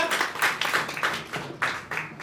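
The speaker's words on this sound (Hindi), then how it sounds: "जोरदार तालियां से बुलाओ यार" A crowd claps and applauds at a community mass wedding gathering in Gujarat, rhythmic hand claps fairly close and moderately loud for a couple of seconds.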